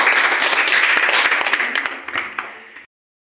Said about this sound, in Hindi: ताली बजाओ भाई सब लोग इनके लिए।